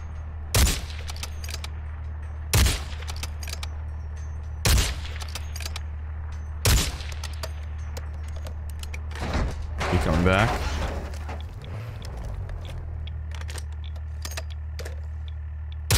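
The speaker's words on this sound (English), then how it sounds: "that's a guy from the helo shooting at me" Gunfire from a departing helicopter in Call of Duty DMZ: four sharp, evenly spaced shots about two seconds apart over a low, constant rotor drone, then a rattling mechanical burst and scattered clicks.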